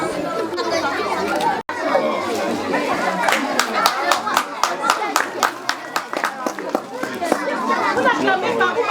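Audience clapping at a primary school academic excellence awards ceremony, a scattered round of applause with sharp individual claps building in the middle, heard under steady crowd chatter and talking voices.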